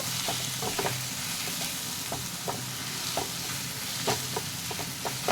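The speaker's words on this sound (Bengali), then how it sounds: "পেঁয়াজটা ভালো করে এর মধ্যে লাল লাল করে ভেজে নিতে হবে।" Finely chopped onion fries in a pan with a steady sizzle, broken by the scrape and clink of a spoon stirring it, close and fairly loud.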